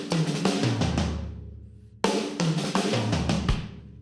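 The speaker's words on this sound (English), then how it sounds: "I'm adding this little ghost note beforehand to make it sound like this." Drum kit fill in which a soft snare ghost note precedes each main right-hand stroke, played twice in a row, close and loud, with cymbal wash ringing out between the phrases.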